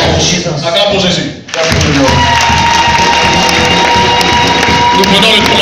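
A church congregation in Bafoussam, western Cameroon, breaks into loud applause and cheering for Jesus, with sustained clapping and shouts filling the hall after a brief lull, and a voice speaking over the crowd.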